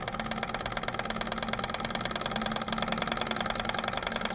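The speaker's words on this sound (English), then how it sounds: "You can see here on the third spin, fourth spin, the engine finally catches." A small Stirling engine runs in a physics lab with a fast, even mechanical chugging and knocking rhythm that holds steady throughout at low to moderate loudness.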